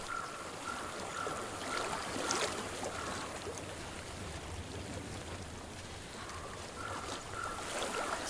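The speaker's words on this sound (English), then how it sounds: "I hear water. Go to it." Water flows in a stream in the game Hellblade: Senua's Sacrifice, a continuous soft rushing and trickling that stays even and moderately quiet throughout, with no talking over it.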